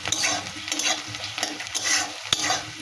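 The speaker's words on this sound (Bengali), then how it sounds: "পেঁয়াজ ভাজা চলছে" Onions fry in oil tempered with five-spice panch phoron, giving a steady close sizzle broken by scraping stirs and the odd sharp tap of a spoon against the pan.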